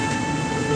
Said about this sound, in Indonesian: Ya, kereta lagi diputar.